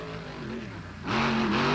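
A monster truck engine revs hard on the throttle during a 1995 race in Lima, a loud rumbling tone that surges up in pitch and volume partway through.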